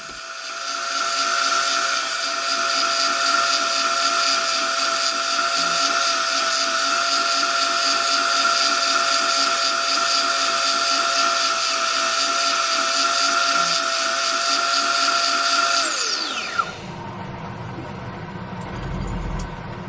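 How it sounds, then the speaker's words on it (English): A bobbin sander shapes a wooden skull Christmas ornament with a steady, loud, high motor whine running for about sixteen seconds, then spinning down and cutting off abruptly. "Using the bobbin sander now to actually shape around underneath the nose to give the skull a bit of shape now."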